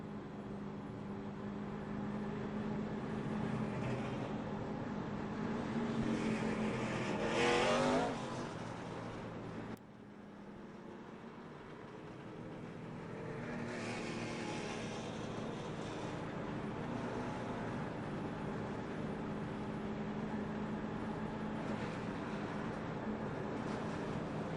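NASCAR stock cars roar past on the Dover track as the field comes back to the green flag, engines swelling loudly in repeated passes, with one big pass-by sweep and then a steady, distant drone of the pack.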